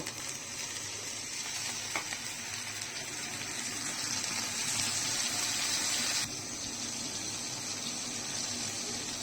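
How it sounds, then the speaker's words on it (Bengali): A little water pours into a pan of spices for dried fish curry in a steady, hissing gush for several seconds, then eases slightly, with no voices. "এখন অল্প পানি দিয়ে একটু কষিয়ে নেব।"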